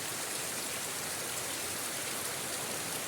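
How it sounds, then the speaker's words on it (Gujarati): Heavy rain pours down in a dense, unbroken hiss, close and steady throughout with no voices. "वरसाद तो બહુ પડી રહ્યો છે."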